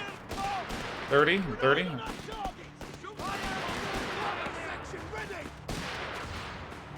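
Cluster grenades going off in Company of Heroes 3 produce several sharp, separate blasts mixed with battle noise. They are partly masked by people talking over them.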